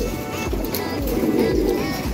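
Pigeons cooing while circling over their loft in the morning, a steady, soft repeated low coo in a continuous layer with faint background noise.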